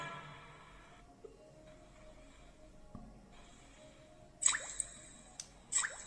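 A water-drip 3D ringtone playing from an Android phone: a few sparse, hollow droplet plinks over a quiet hiss, then a louder cluster of bright, ringing drips near the end, with no voices.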